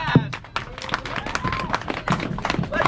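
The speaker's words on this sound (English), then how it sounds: "can we get a clap going?" Audience at a Fallout: New Vegas fan celebration clapping along in a steady burst of handclaps throughout, with a voice talking over the crowd.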